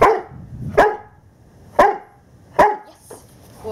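A dog in protection training barks four sharp times, close and loud, with short quiet gaps between the barks.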